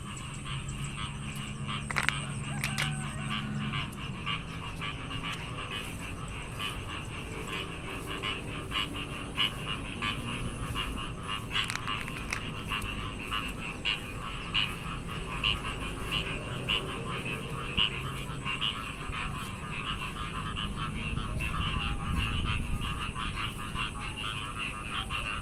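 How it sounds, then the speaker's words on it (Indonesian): Frogs croak steadily in a chorus near green rice paddies after flooding, a dense continuous rhythm of calls with faint background noise and no talking. "bunyi kodok begitu terdengar dengan jelas dan merdu"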